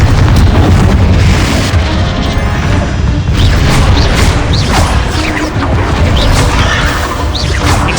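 Confringo explosive spell blasts in Hogwarts Legacy, a loud, dense crashing boom that fills the whole stretch with rumbling debris and scattered sharp impacts, no voices.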